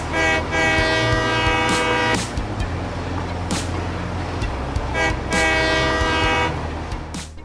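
A train in the factory-building game Satisfactory rumbles steadily along with clattering wheels while its horn blares loudly in two long blasts, one at the start and one near the end.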